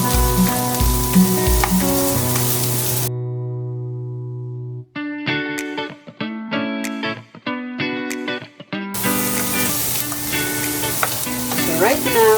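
Fish, tilapia or lapu lapu, sizzles as it fries in a pan for escabeche, a loud close crackle that drops out midway under bursts of electronic tones before the frying returns.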